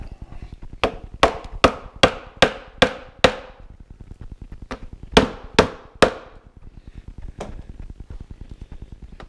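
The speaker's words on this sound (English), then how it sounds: "So I gotta pound it in now with a piece of wood." A broken quarter-inch tap is hammered into a quarter-inch hole with a piece of wood. Sharp, close knocks land in two quick runs of several blows each, with a few lighter taps in between.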